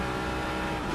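A Ford Mustang race car engine roars steadily at high revs on the Silverstone circuit in a racing video game, a loud continuous drone with no break.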